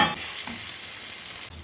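Fried potatoes are stirred into a cooked spice masala, giving a close, continuous sizzle with soft scraping from the stirring. There is no talk.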